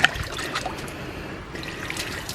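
Water trickles and splashes steadily as it is poured into a hand water pump, a continuous close, moderately loud dribbling with a few small splashes and no talking.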